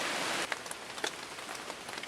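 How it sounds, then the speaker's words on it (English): Steady rain falls outdoors near rock cliffs, a dense hiss of drops on surfaces with a few louder nearby drips and spatters, no voices. "the rain's starting to slack off a little bit"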